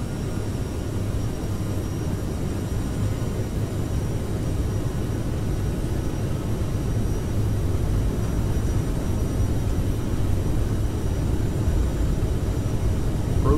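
Aerosoft CRJ regional jet taking off in Microsoft Flight Simulator, a steady broadband engine roar with a faint high whine, constant and moderately loud for over ten seconds without talk.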